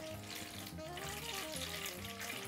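Water is poured off clay balls from the Serrata that have been soaking, a steady continuous splashing and trickling close by, with no talk.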